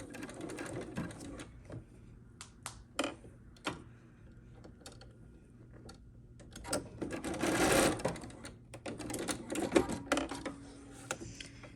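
A sewing machine stitches a quilt block seam and then backstitches over it, a close, rapid mechanical whir broken into short runs with clicks and brief stops between.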